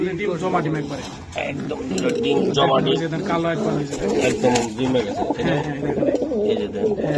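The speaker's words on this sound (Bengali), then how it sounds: "এগুলো ইয়াং কবুতর বন্ধুরা একদম পারফেক্ট একটা জোড়া" Young racing pigeons coo softly and repeatedly in a steady, close chorus inside a loft, with voices murmuring underneath throughout.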